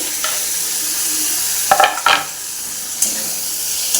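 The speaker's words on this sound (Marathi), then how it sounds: "टोमॅटो पण आपण एखादं मिनिटभर तेलामध्ये चांगला परतून घ्यायचा" Tomatoes sautéing in hot oil with a garlic and green chili paste give a steady close sizzle, broken by a few sharp spatula scrapes and stirs against the pan.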